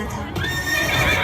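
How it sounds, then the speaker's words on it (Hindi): Several horses neigh and whinny loudly up close, with a galloping clatter of hooves, as four black horses pull a golden chariot. "और काले रंग के 4 घोड़े उस पर जुटे हुए थे"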